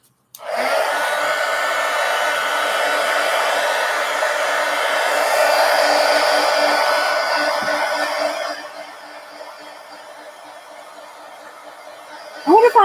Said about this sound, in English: Hit it with the heat gun.